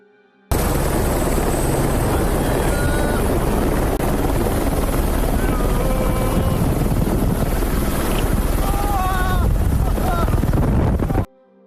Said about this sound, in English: A red Eurocopter AS-350 helicopter lifts off with 5 excited passengers and a seasoned pilot.